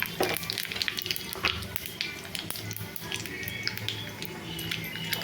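Dry chili, cumin and mustard seeds tempering in hot oil in a pan, giving a soft, close crackling sizzle with scattered small pops and ticks throughout.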